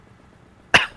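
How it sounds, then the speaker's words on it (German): A single sharp cough bursts out after near silence, close and loud, short. "Hustanfall"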